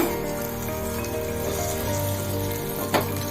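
Sliced onions sautéing with salt in a pan, a steady close sizzle with a constant low hum beneath and one brief scrape near the end, no voices.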